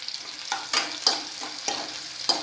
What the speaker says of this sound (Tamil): கட் பண்ணி வச்ச பெரிய வெங்காயம் சேர்த்துக்கலாம் நான் இன்றைக்கி இரும்பு கடாய் தான் வச்சுருக்கேன்